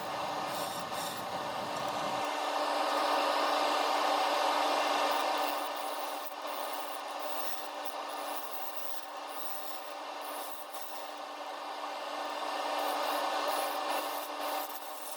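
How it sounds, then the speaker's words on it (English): A bowl gouge hollows a padauk and resin bowl spinning on a wood lathe, making a continuous close scraping and rubbing sound over a steady motor hum. "So just continuing the hollowing process here, back with the bowl gouge."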